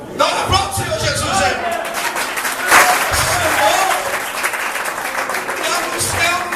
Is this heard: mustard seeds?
no